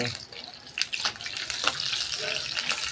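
Fish frying in a pan on a rooftop for lunch, with a bright crackling sizzle and brief stirring scrapes, close and fairly loud.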